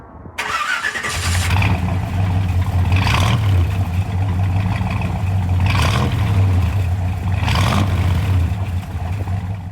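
A 1957 Chevy Bel Air V8 cranks and fires, then settles into a loud steady idle broken by three rising revs spaced a couple of seconds apart, heard close to the car.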